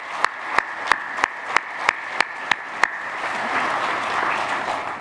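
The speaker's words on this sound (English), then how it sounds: "I just want to have everybody give you a round of applause for that." An audience gives a round of applause, starting with eight sharp, evenly spaced claps that then blend into a sustained wash of clapping from many hands.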